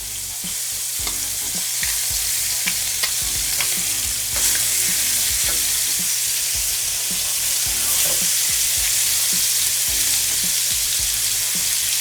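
Pork chop searing in a hot pan, a loud, steady sizzle of fat and oil with scattered pops and the scrape of turning the meat.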